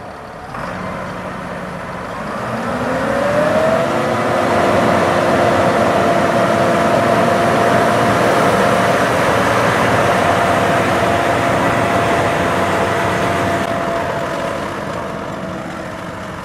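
Tractor running with a Kuhn rotary hay rake at a hay-making demonstration, a steady engine drone that swells and holds for several seconds, a rising tone settling into a constant hum, then fading slightly.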